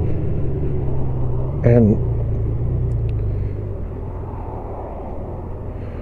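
A Honda motorcycle's engine gives off a steady, fairly loud low rumble during a ride, with wind noise and someone talking over it.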